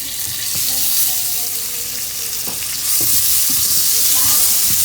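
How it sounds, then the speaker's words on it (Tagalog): Butter melting in a hot pot for turkey soup produces a loud, dense, continuous sizzle that grows slightly stronger partway through, with a few faint clicks of utensils and no speech. "Mainit na po tong ating pot. Ilagay po natin ng butter."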